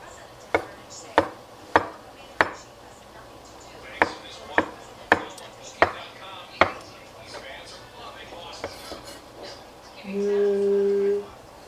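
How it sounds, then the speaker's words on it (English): Knife chopping mushrooms on a cutting board for chicken fried rice, about ten sharp, close chops in an uneven rhythm, then a brief steady tone near the end. "I'm going to kind of chop these, just kind of pretty good sized pieces, but they're more chopped than just sliced."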